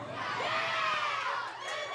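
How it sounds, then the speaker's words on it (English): A crowd at a college bowling league championship match cheers and whoops loudly and continuously, with shrill shouting over a dense roar. "And you hear the cheering over here."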